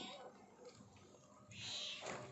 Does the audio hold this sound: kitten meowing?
yes